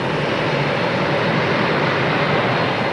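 Dense, steady roar of airliner jet engines running, broadband and continuous at close range for the whole stretch. No voices are heard over it.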